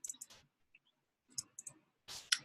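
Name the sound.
computer mouse click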